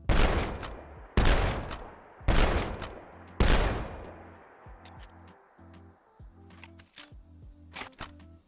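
A shotgun in a video game, fired in third person with power armor, lets off four loud, booming blasts about a second apart, each ringing out before the next, followed by quieter mechanical clicks and clacks of handling.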